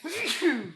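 A single short sneeze, close and fairly quiet, with a sharp onset that trails off within a second.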